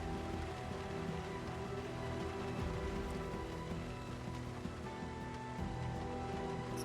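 Steady rain falls in Project Zomboid, a dense, even hiss of drops on surfaces holding constant at moderate level for the whole stretch, with no voices.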